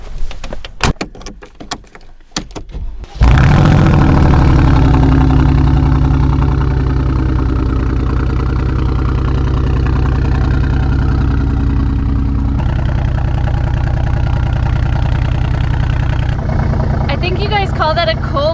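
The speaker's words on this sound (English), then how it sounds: "Call that a cold start, but here I call it a freezing start." A car engine cold-starting in freezing, snowy weather: a short crank catches into a loud, steady, rumbling idle that runs on evenly, with a brief clatter of handling noise before the start.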